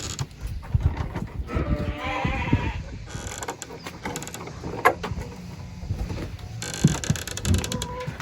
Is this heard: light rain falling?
no